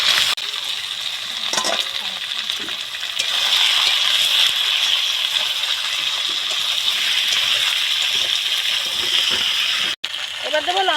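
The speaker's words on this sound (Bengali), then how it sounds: "এবারে মাংসগুলো দিয়ে দেবো।" Duck meat tipped into a pan of frying ground ginger-coriander spice paste, giving a steady loud sizzle with scraping and stirring throughout, a brief dropout near the end.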